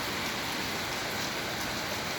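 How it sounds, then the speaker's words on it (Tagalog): A dense, constant roar of heavy overnight rain pouring down in Kuwait, loud and unbroken with no voices. "ganito pag ulan ito talagang ulan kasi halos magdamag na"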